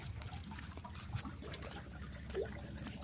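Water trickles and pours from a farm water tank connection shared among three owners, outdoors in the fields, a steady low-level rush with faint splashes and no talking.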